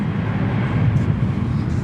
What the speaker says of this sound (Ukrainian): І десь поряд вже злітає літак, але щось я не бачу його.